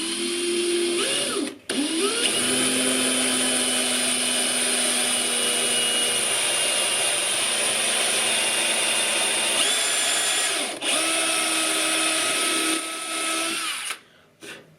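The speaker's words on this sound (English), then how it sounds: "As soon as I get a little bit of a hole, I'm going to use the reamer." Power drill running a reamer through pin holes in hard wood on a 1938 Martin D18 guitar bridge, a steady loud whine with pitch dips under load, briefly stopping near two and eleven seconds before cutting out at the end.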